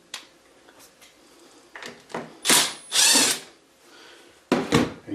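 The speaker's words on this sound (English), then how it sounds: "First thing you're going to do is you're going to remove this screw right here." A power tool backs a screw out of a plastic cover on a Yamaha Grizzly 450 ATV, in several short, close whirring bursts separated by pauses.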